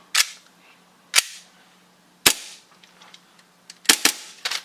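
Gas blowback airsoft gun firing single shots, five sharp, loud cracks spaced irregularly with quiet gaps, the last two in quick succession, close by.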